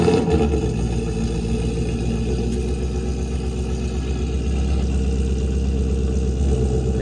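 A Ford Mustang 5.0 GT V8 idles after a warm start, a loud, steady, deep rumble with a slight lope, heard close up without talk.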